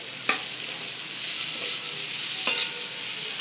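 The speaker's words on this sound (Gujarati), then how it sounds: "હવે આપણે તેને હલાવી લઈએ" Kantola (spiny gourd) shaak cooks dry in a pan, a continuous soft sizzle broken by two crisp spatula scrapes, one early and one late, close and clear with no talking.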